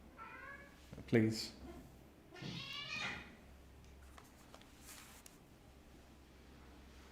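Pet cat named Kiki meowing indoors during a gaming session, several close, drawn-out meows in the first few seconds, with a voice talking over them.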